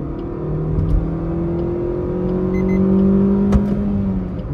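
A Maruti Swift ZXI+ accelerating hard from standstill toward 100 km/h, a steady loud engine drone rising in pitch through the gears with tyre and road roar, heard from inside the cabin.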